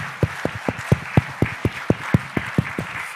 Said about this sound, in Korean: 그리고 박수 한번 드릴까요?